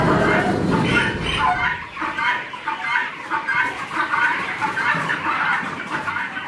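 Free-range laying hens on an outdoor farm cluck steadily in a dense, continuous chorus, fairly close and loud, with a deeper rumble of activity briefly underneath at the start.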